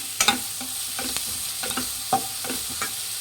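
Green chillies and onion frying in a pan with mustard seeds and chana dal, a close, loud sizzle broken by quick spoon-stirring scrapes and taps in an uneven rhythm, no voices.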